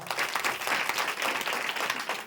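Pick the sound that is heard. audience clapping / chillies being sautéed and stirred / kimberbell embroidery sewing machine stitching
audience clapping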